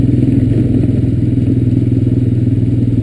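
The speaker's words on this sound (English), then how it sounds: "Just popped a wheelie on the Recon." Honda Recon ES ATV engine running loud and close with a steady throbbing rumble and rattle, holding a constant tone throughout.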